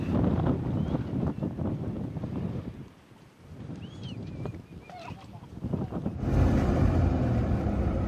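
Strong wind buffets the microphone in an open landscape in Azerbaijan, a steady roar that drops briefly, then gusts again louder.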